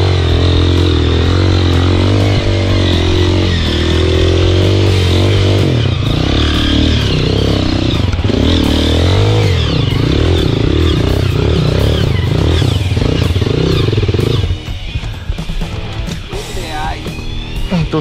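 A Honda CRF dirt bike labors up a muddy trail, its engine droning loud and close with rising and falling revs, then easing off near the end, while riders talk over the noise.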